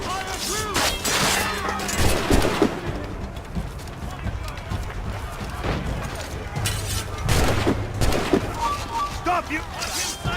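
Musket volleys crackle through a chaotic battle in the Assassin's Creed Rogue video game, with dense, overlapping bursts of gunfire and booming impacts amid constant shouting and battle noise across the whole span.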